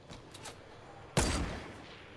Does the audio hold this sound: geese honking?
no